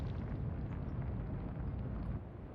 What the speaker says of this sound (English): 2 torpedo hits.